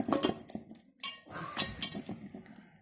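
A spoon mixing Kashmiri chilli powder in a bowl makes soft scrapes and a few light metallic clinks at close range, irregular and fairly quiet, with no talking.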